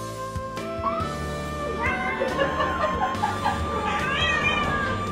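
A cat meows and caterwauls repeatedly, loud and close, with drawn-out rising and falling yowls over a background of other noise.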